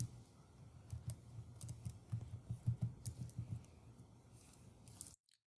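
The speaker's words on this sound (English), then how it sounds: "Type in your barcode." Keys clatter in quick, uneven bursts as a library card number is typed on a computer keyboard, close and fairly loud with no talking, ending abruptly in silence.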